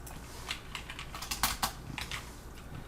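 Fingers typing on a computer keyboard, an uneven run of crisp key clicks with a few louder strikes, heard close up without any talk.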